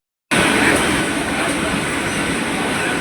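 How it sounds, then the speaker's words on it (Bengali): A local train bound for Tarakeswar runs on at speed through heavy rain, a steady loud rolling roar with rail noise filling the whole span from a sudden start, no voices. "মেঘ বৃষ্টির মাঝখানেই ট্রেন কিন্তু ঠিক টাইমেই ছুটে চলেছে"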